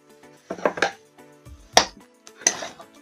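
A spoon clinks and scrapes against a pan while spiced mashed potato is mixed, giving a few sharp, close metallic knocks separated by brief pauses, with no talk.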